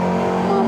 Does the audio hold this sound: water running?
no